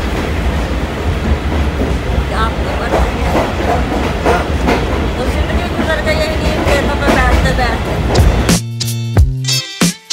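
Karachi Circular Railway carriage heard from inside on the move, a steady loud rumble of wheels on track with rhythmic clacks, then a sudden clatter of joints and braking toward the end; voices murmur underneath.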